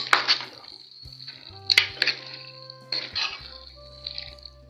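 Fried red beans being stirred in a pot, with several sharp clinks and scrapes of a utensil against the pot, sparse and uneven, alongside a few faint tones.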